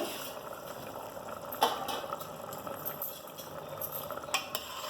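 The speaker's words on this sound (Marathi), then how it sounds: "झाकण काढून पाहूया आपण." A pot of simmering CKP-style chicken curry has its lid lifted, with a brief metallic clink over a steady bubbling, hissing simmer and a few light utensil knocks, close by and with no talking.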